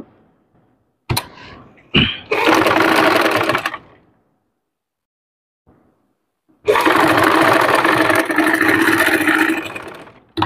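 A sewing machine stitches a sleeve cuff in two loud, close bursts of steady whirring, the second one longer, separated by a quiet pause, with no talking.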